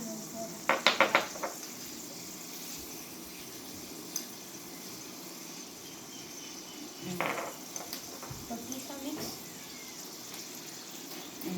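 Dragon chicken is stirred in a pan by hand, giving a burst of clattery scraping and clinks early on and another scattered run later, all over a steady sizzling bed with faint background noise.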